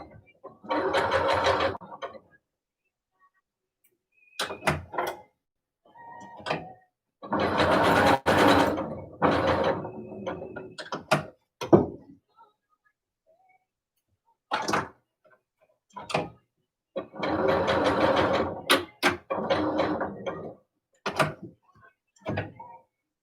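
A sewing machine stitching stretchy woven fabric with a stretch needle runs in three steady bursts of a few seconds each, separated by silences with scattered clicks and handling taps, heard close and alone.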